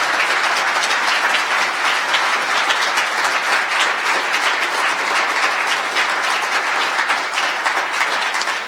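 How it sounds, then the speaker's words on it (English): A large audience applauds a panel at a library event, dense steady clapping that stays loud and even throughout with no voices. "Let's have a very large round of applause for our panel here."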